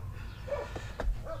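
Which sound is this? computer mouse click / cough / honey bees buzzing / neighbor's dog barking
neighbor's dog barking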